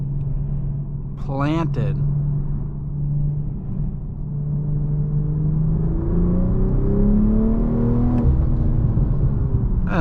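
A 2023 BMW M440i Coupe accelerating hard, its engine note rising in a steady rumbling drone that climbs in pitch, heard from inside the car with someone talking over it.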